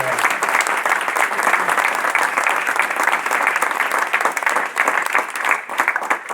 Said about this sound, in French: je crois qu'on peut même les applaudir parce que vraiment, ils méritent